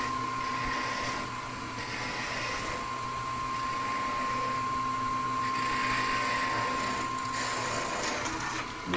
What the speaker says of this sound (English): we're going to go ahead and part this off again with a skew